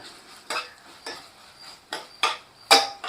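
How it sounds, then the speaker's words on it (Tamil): A spoon stirs ginger garlic paste into a pan of white mutton kurma, giving six scraping, clattering strokes against the metal at an uneven rhythm, close and moderately loud, with no talk. "ஒரு மேஜை கரண்டி இஞ்சி பூண்டு விழுது இதை நான் சேர்த்துக்கிறேன் சேர்த்து நல்லா கலந்து விட்டுக்கிறேன்"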